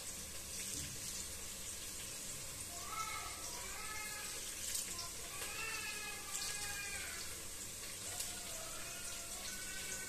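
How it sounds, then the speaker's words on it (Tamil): Tap water runs steadily into a pot while basmati rice is washed in a kitchen. The stream is constant and fairly faint, with rising gurgles as the pot fills. "இப்போ தண்ணி ஊற்றிட்டேன்."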